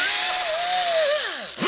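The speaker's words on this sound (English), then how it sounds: "So I'm going to use the angle grinder with a sanding disc on it and knock that off." An angle grinder fitted with a sanding disc whines loudly and continuously as it grinds solder off copper on a moonshine still, its pitch wavering and then dropping sharply as the disc slows near the end.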